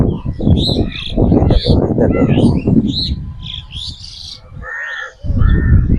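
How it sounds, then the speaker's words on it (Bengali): Birds call loudly and constantly in a Bengal village on a breezy day, chirps and sharp tweets overlapping near and far among coconut trees, with crow-like caws and cooing mixed in, alongside someone talking. "পাখিগুলো কত আওয়াজ করে করে চেঁচাচ্ছে।"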